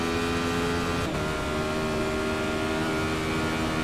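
A race car engine in the iRacing Radical Challenge sim holds a steady, high-pitched whine at high RPM, dense with harmonics and continuous throughout, with a brief dip partway through.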